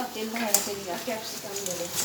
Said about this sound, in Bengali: চপ আমার ভাজা হয়ে এলো